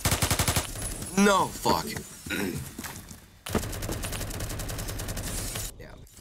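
A gun fires in a first-person shooter video game, with rapid bursts of loud shots, some in quick rhythmic strings, against other game sounds and effects, while a player briefly speaks.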